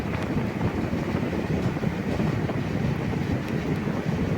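A MEMU train runs between Kollam and Kottayam, a continuous low rumble of wheels and carriage with faint rhythmic clatter and some wind buffeting, steady throughout.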